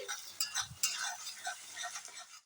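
A spoon stirs and scrapes spices and chopped tomato in a pan over a medium-low gas flame, giving soft, irregular clinks and light sizzling scrapes close by. No one speaks.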